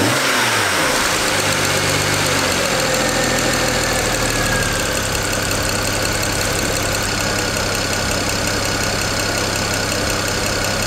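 A BMW engine revs as the throttle is pressed, a steady loud drone running close and continuous with no talk over it.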